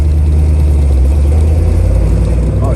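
A 1967 Chevrolet Camaro with a 396 big-block V8 running on the road, a loud, close, steady low engine roar that holds through the whole moment without breaks.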